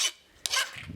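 A file bites into a piece of softened steel in quick back-and-forth rasping strokes, close up and soft, each with a slightly lower, duller scrape. No voices are heard.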